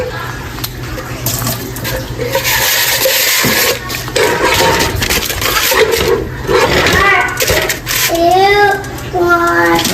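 Fresh tap water runs steadily into a kitchen sink, a broad continuous splashing rush that fills the whole stretch, with a voice and other talk mixed in on top.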